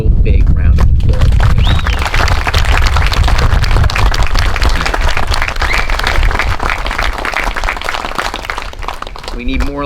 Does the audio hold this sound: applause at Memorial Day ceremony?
yes